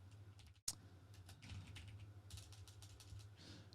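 A brief burst of quiet clicking keystrokes on a computer keyboard, a handful of irregular taps heard faintly over a low background hum.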